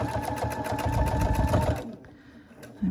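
A home sewing machine stitches a quilt block in rapid, even pulses for about two seconds, close and clear, then stops abruptly, leaving quiet room tone with a brief soft clunk at the end.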